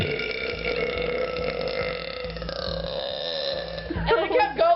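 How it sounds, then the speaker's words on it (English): A single long, drawn-out human burp, loud and close, rumbling continuously for several seconds and ending in a rough, broken gurgle. "I did this burp once at my friend's house"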